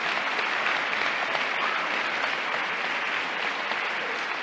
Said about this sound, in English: So give yourselves a great round of applause.